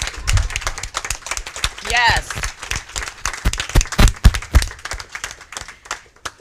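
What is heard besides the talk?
audience applause for mayoral candidates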